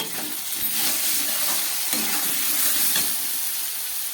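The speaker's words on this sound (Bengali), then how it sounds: "আলু আর টমেটোটাকে খুব ভালোভাবে আমি ভেজে নিলাম।" Potatoes and tomatoes frying in a pan, a steady loud sizzle and hiss throughout with occasional scrapes of stirring.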